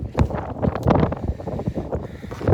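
Gusty wind on a mountaintop buffets the microphone in uneven, rumbling bursts, loud and close, with no other clear sounds.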